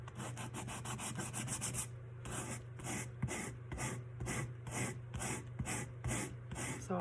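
A tumbler surface is scuffed with sandpaper in quick repeated rubbing strokes, close and fairly quiet. The rasping comes in bursts with short pauses between them.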